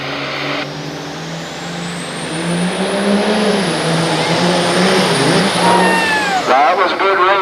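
Diesel pickup trucks, including a Dodge, roar loudly at a truck pulling competition, the engine note climbing steadily under strain before dropping off, while an announcer talks over the noise.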